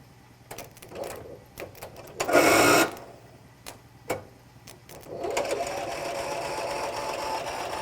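An abandoned M274A2 military mule engine is cranked over in short bursts with clicks and a brief loud whir, then a steady mechanical rattle continues, close and fairly loud, with no voices.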